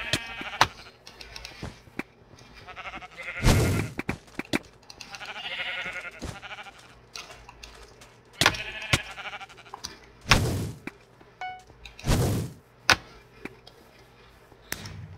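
Sheep bleat several times in the Sheep Quest video game, with loud separate cries spaced across the stretch over busy game sounds.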